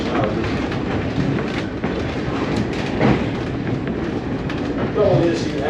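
A New Hope Railroad passenger train rolls along its tracks with a steady, loud rumble and faint clickety-clack, while a person talks over it throughout.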